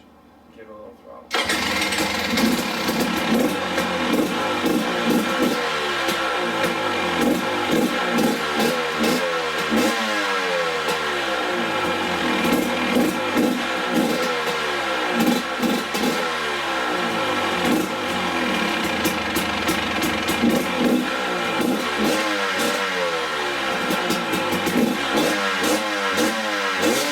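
A KTM 300 XC two-stroke dirt bike fitted with an FMF Turbinecore 2.1 silencer starts up close and runs continuously, its engine note rising and falling through repeated throttle blips over nearly half a minute.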